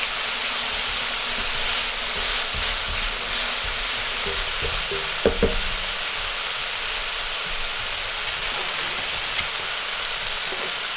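Tomato and green chili stir-frying in a pan, giving a continuous broad sizzle with a brief utensil knock midway and otherwise little movement.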